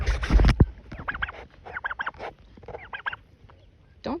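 Ducks in a garden give a loud harsh burst of quacking at the start, then a run of softer, closer chattering quacks and honks continues in uneven clusters.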